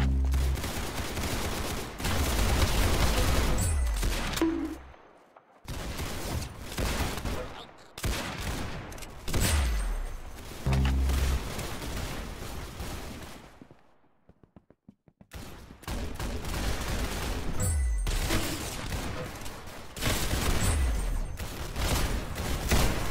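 Gunfire from the Roblox game Arsenal comes in loud repeated bursts of rapid shots, broken by brief silent pauses, with a few short gaps between volleys.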